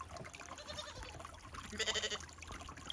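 Goats bleat faintly in a paddock, a brief wavering call standing out near the end against a low, murky background.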